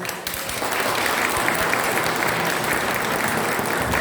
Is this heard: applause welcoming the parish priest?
yes